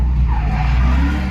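A Nissan 350Z drift car at Apple Valley Speedway, its tires squealing in a brief loud skid over the engine's roar.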